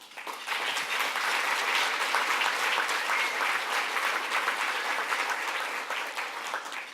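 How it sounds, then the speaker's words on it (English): Sustained applause from an event audience in a ballroom venue, thanking the sponsors, a thick, even wash of many people clapping at once, steady in level from start to finish with no voices on top. "a big round of applause for our event sponsors today"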